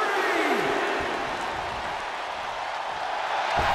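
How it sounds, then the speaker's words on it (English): A New Japan Pro-Wrestling tag team match crowd roars with cheers and scattered applause, a dense continuous wash of noise filling the arena, loud and sustained from start to finish. "The sound of this crowd is deafening, and he's asking for more."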